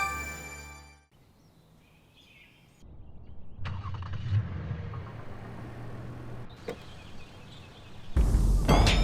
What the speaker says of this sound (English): Did you start the car?